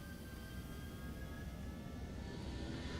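Airliner engines at takeoff thrust in the X-Plane 11 flight simulator, a ToLiSS A321, a faint, steady broadband roar with a thin high whine running through it, constant and distant.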